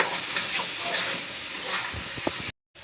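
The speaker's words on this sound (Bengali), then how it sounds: "আঁচটা বাড়িয়ে চালটাকে একটু ভেজে নেব।" Rice grains frying over raised heat in a pan for pulao, giving a steady close hiss and sizzle with light scraping stirs. Brief soft knocks come near the end, then the sound cuts out.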